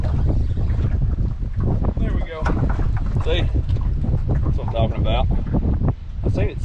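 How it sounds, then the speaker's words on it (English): Strong, gusty wind blows across a fishing boat on the water while crappie fishing. The wind makes a loud, constant rumble over the microphone, and someone talks over it. "this surprise wind come out of nowhere"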